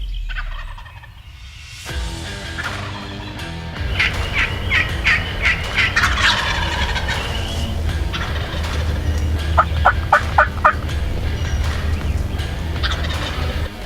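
Wild turkey gobbling during a hunt, two rapid rattling gobble calls in bursts, moderately distant, over low steady background noise.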